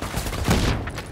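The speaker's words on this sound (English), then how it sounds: "Oh god, sentry gun." Enemy sentry gun firing in the video game Tom Clancy's The Division, a brief dense burst of rapid automatic shots that swells and fades within about a second.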